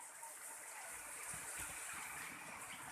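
Heavy rain pours down at a school in Lhokseumawe, North Aceh, a dense, steady wash of hiss and rushing water with no break, fairly close and filling the whole scene.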